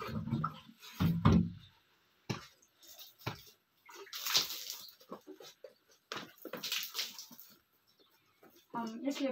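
Water thrown and splashed across a floor to settle dust before sweeping during winter cleaning in a village home, heard as several short wet splashes in bursts with someone talking between them.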